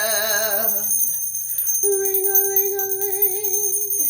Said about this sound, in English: Let's ring this fucking bell, okay?